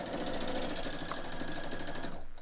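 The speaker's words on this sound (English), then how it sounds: "put your presser foot down and start sewing the next edge" A sewing machine runs steadily, stitching along the edge of a quilted throw pillow, its fast, even needle rhythm close and continuous before slowing to a stop.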